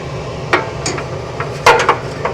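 A metal grease tray slides out of the back of an Arspura kitchen range hood, giving a few sharp clanks and scraping knocks, close and fairly loud, with no talking.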